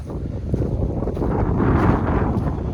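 Cold, frosty wind buffeting the microphone over an open wheat field, a loud, continuous low roar with no talking.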